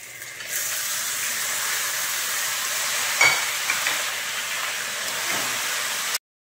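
Eggplant and radish with potato frying in an oiled pan, a continuous hiss of sizzling with a brief stir or clatter midway before it cuts off.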